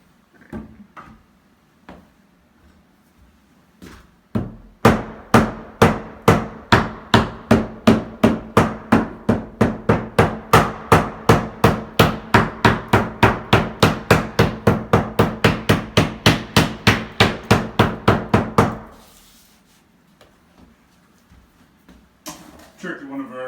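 Rapid, steady hammer blows strike drywall dozens of times in a quick, even rhythm, close by, then stop abruptly.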